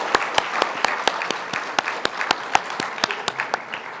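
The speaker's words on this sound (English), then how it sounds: "big round of applause." Audience applause following a student energy and environment presentation, a steady burst of many hands clapping with sharp individual claps standing out, fairly close and continuous, no talk over it.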